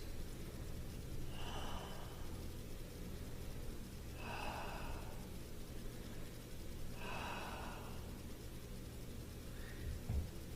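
Three slow, deep breaths during a kneeling toe and quad stretch, each a soft, airy inhale and exhale spaced a few seconds apart, close and quiet over a steady low background hum.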